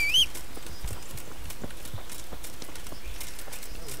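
A horse's hooves clip-clop in a steady walking rhythm in the video game Kingdom Come: Deliverance, fairly faint and close, with a brief bright chime at the start.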